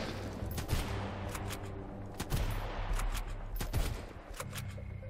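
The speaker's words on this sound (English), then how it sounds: "Now, where are you shooting me from? I see gunfire." Rapid bursts of gunfire crackle in the survival game Sunkenland, sharp shots popping in quick succession over a steady low rumble, fairly quiet overall.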